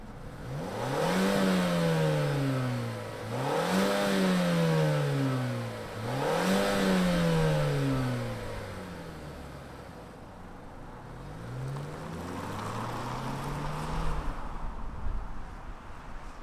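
A 2024 Mazda 3 Turbo all-wheel-drive sedan with its 2.4-liter turbocharged engine revs up in three strong rising pulls and then a softer fourth as it drives off. The engine fades to a quieter rumble at the end.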